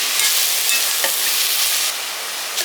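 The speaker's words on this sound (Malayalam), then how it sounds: "ഉള്ളിയും വെളുത്തുള്ളി ഒന്ന് ജസ്റ്റ് വഴറ്റിയതിന് ശേഷം ബട്ടറിൽ മഷ്റൂം ഇടുക" Mushrooms frying in butter with onion and garlic, giving a steady, close sizzle with faint stirring scrapes throughout.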